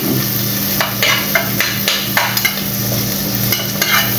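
Garlic fries in a pot, a loud steady sizzle with repeated scraping and tapping of a spoon stirring against the pot.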